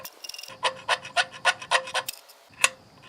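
A painted Beyblade disc is scraped to strip bits of paint, heard as about eight quick, close rasping strokes in an even rhythm with a short pause near the end.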